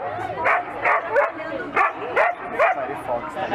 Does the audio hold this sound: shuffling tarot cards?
no